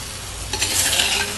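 Raw green mango stirred in a hot pan: a quick scraping stir over a short burst of sizzling, close and brief, with no voices.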